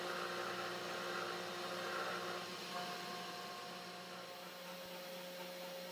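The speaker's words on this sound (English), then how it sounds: "When milling wood, as shown here, the workpiece is processed line by line and only from left to right." A cheap hobby CNC machine milling a wood workpiece line by line, a steady motor whine with a continuous cutting hum, fairly loud and constant throughout.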